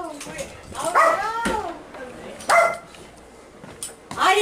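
A dog barks and whimpers with high yelping, whining cries in short bursts, close and loud, with people talking over and between the sounds.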